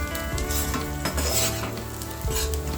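Crushed garlic pieces and browned onion sauté in a pan for a Konkan-style tender jackfruit bhaji, with a loud, continuous sizzle and a few stirring clinks against the pan.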